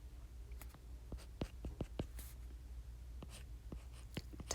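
A pen scratching out a math formula on paper, quiet close strokes and taps in an irregular rhythm, faint and alone with no talk.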